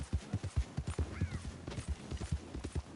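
A horse in Red Dead Redemption 2 clops along in a quick, regular hoof rhythm, close and clear, with a brief whinny partway through.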